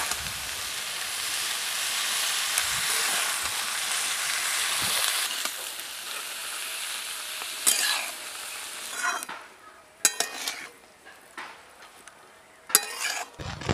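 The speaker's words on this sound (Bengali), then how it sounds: "বাঁধাকপিগুলো দিয়ে একসঙ্গে ভালো করে এখন মিশিয়ে নেব।" Shredded cabbage being stirred and mixed in a hot frying pan: a loud, continuous broadband sizzle gives way to intermittent scraping strokes of a spatula and quieter hissing gaps.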